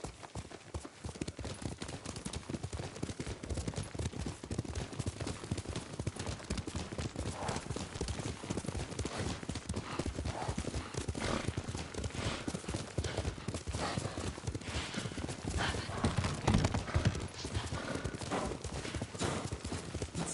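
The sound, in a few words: horse hooves clip-clopping while riding, from video game Ghost of Tsushima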